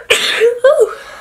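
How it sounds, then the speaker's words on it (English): A single person's sneeze, close and loud: a sharp breathy burst followed by a voiced, drawn-out release, lasting about a second. "So I think I'm gonna sneeze."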